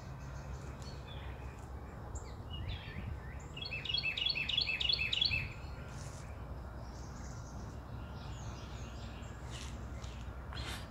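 A bird sings in a garden, a faint cluster of quick chirps rising briefly for a couple of seconds over steady low outdoor hum, with a few scattered calls later.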